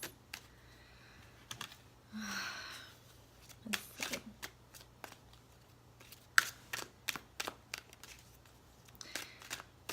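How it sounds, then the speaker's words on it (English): Tarot cards being shuffled in quick, uneven bursts of riffles and taps, close up, with a brief murmured word from a person partway through. "I have not had to shuffle this long for these cards for anyone else."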